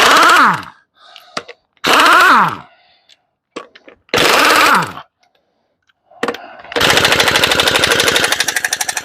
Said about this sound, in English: got my trusty impact gun. Let's get the wheels off.